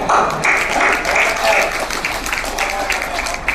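Audience clapping during a speech, a steady wash of applause lasting the whole stretch, moderately loud with a voice partly audible beneath it.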